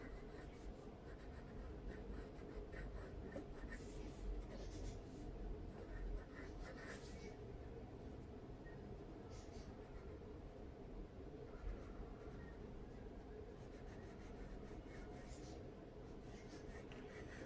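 Pencil drawing the details of a nose on paper, a steady soft scratching and rubbing that runs throughout at close range with no speech.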